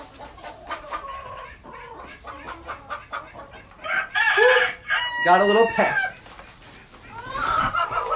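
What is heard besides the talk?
chickens clucking in a chicken coop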